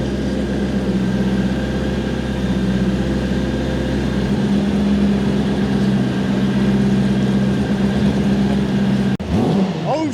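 A hydrogen-fuelled supercharged Mini engine idles steadily with a low, even hum. Partway through the note shifts slightly and stays level until a brief cut near the end, after which it picks back up.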